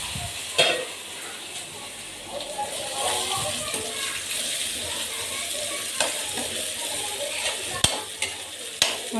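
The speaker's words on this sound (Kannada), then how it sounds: "ಆನಿಯನ್ಸ್ ಎಲ್ಲ ನೀಟಾಗಿ ಫ್ರೈ ಆಗಿದೆ." Onions frying for fried rice in a home kitchen pan, a continuous sizzle with occasional stirring clanks and scrapes of the utensil, close and fairly loud.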